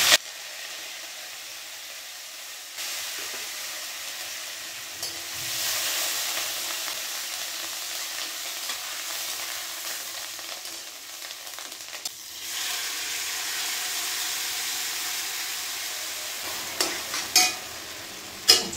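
Green chillies, cashews and curry leaves hitting hot fat for pongal, a soft continuous sizzle that swells in stages as each ingredient drops in, with a few louder pops near the end and no speech.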